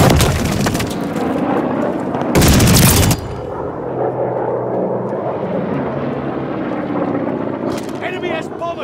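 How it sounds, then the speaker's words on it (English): Loud roar of approaching enemy bomber aircraft in the World War II shooter Call of Duty: Vanguard, a steady heavy drone under bursts of gunfire and game voices. "Enemy has bombers on the way!"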